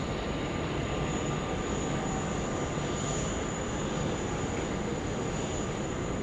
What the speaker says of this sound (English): Dash 8, 300, I think it might be 400, coming in now, 16 right.